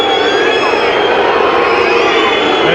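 A football crowd at a National Soccer League match between Sydney United and Sydney Olympic groans and jeers over a yellow card, a dense, loud, unbroken roar of many voices filling the stadium.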